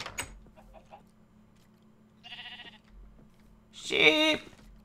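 Minecraft sheep bleating in a blocky farm game, one short wavering bleat standing out clearly over a quiet backdrop of soft game ambience and a couple of fainter blips.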